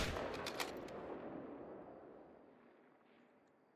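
Rifle shot fired at a Springbok in theHunter: Call of the Wild, a single sharp report at the start that rolls into a long, fading echo across open terrain.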